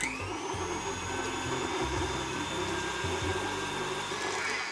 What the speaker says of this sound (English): And then I'll just cream the sugars and the butter together.